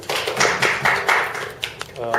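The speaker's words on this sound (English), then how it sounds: "Round of applause for him." Audience applause at a leadership skills training program in Pune, a short burst of clapping from a room of people, with speech overlapping parts of it.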